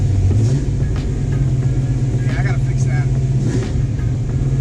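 A 1970 Ford Mustang engine idles with a steady low rumble after the car is put into reverse on its first shakedown drive, while someone speaks briefly close by.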